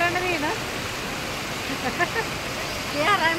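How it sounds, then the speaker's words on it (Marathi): The Pravara river rushes in a steady broadband roar of flowing water, with faint voices talking intermittently over it. "प्रवराला पेहेरा पण म्हणतात. पण खूप खळखळाट आहे तिला, खूप जास्त खळखळाट."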